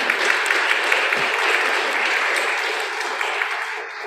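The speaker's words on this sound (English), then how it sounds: "would you thank with a round of applause all who participated in reading and singing today?" A church congregation applauds the readers and singers from a service, a steady dense wash of clapping that fills the room evenly throughout.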